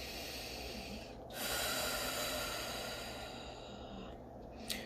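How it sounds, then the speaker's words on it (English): Slow, deep breaths drawn during a meditation session, a steady breathy hiss that swells in a long inhale and then eases off, close and fairly quiet, with no talking. "Take some breaths."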